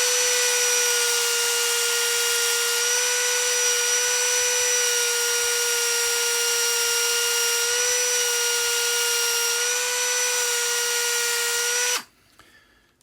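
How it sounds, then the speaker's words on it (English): A Dremel fitted with a small plastic cleaner polishes model locomotive wheels, giving a steady high-pitched motor whine that holds for about twelve seconds and then stops abruptly. "switch on the Dremel"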